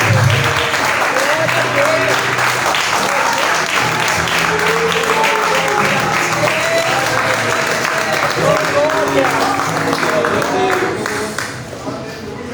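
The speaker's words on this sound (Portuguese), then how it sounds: "Que as palmas louvem ao nosso Deus." A church congregation claps together during worship, steady and sustained for about twelve seconds with singing and voices mixed in, fading slightly at the end.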